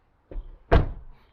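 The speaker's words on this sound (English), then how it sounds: "And the door shuts in a sort of a reassuring way" A Great Wall Wingle campervan door shuts with one solid, close thud, preceded by a softer knock a moment earlier, then quiet.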